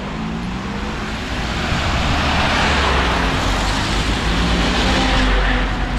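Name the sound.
dense road traffic, steady stream of cars in a jam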